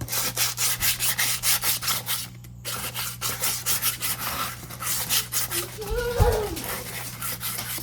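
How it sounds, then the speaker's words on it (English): Light sanding on a wooden kitchen ladle, a steady rhythmic rubbing with repeated strokes close by, pausing briefly midway before resuming. "So I'm going to lightly sand this one as well."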